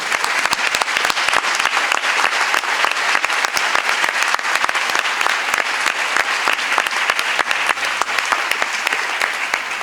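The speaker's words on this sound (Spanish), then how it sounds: "Y fue un aplauso dado con mucho gusto también." An audience at a Spanish-language conference applauds steadily, dense clapping from a large crowd held at an even, loud level throughout with no pause.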